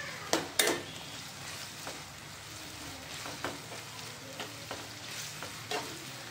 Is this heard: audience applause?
no